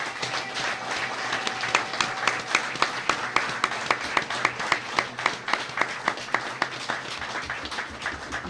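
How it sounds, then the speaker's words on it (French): A ceremony crowd applauds a family at the renaming of the RTNC2 studio as Studio Lutu Mabangu, with continuous clapping and a few louder, sharper claps standing out in a steady rhythm. "si nous pouvons joindre nos deux mains pour applaudir cette famille"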